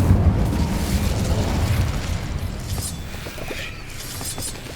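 An Incendio fire spell cast in Hogwarts Legacy bursts with a loud, close whooshing roar of flame and crackle that slowly fades, with no talk.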